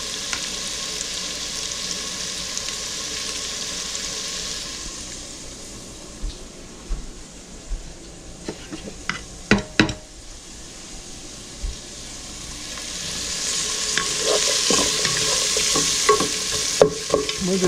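Constant crackling sizzle of onions frying in olive oil in a pan, close and loud, with scattered clicks and scrapes of stirring and a swell of hissing near the end.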